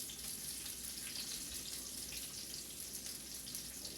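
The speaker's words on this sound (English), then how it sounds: "I'm going to start by cooking my onions" Onions cooking in a pan for beef and greens stir-fried rice cakes, giving a steady, close sizzle with watery crackle that holds evenly the whole time, with no voices.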